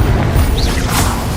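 A Confringo fire-blast spell going off in Hogwarts Legacy, a loud, dense crashing burst with a whooshing edge that fills the whole short moment.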